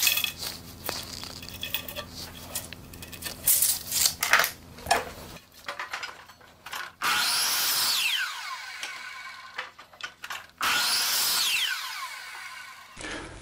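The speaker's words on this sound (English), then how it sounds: "the next step is to cut your straight 2x4 to the length of the shim" A saw cuts a straight 2x4 wooden board to length, with bursts of high whining blade noise and rising, falling tones as the saw spins up and winds down, separated by clatter and quieter pauses.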